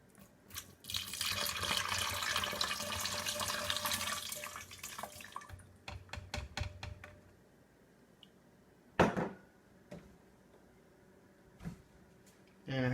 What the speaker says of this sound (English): Then we're going to do a cup of water.